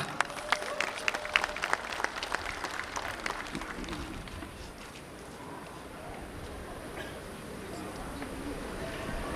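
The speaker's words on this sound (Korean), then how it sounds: "큰 박수를 보내주시기 바랍니다" Applause from an outdoor crowd at a Korean War anniversary patriotic ceremony, scattered sharp claps early that thin into a softer, distant murmur of crowd noise.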